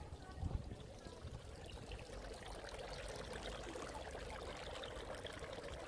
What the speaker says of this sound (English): The water in these fountains is drinkable